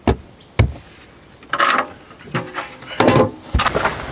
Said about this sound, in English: There is a very long drawer.